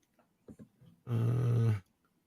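A Shiba dog sound effect, used as an alert, gives one short, low, growling vocal burst of about a second after a couple of faint blips.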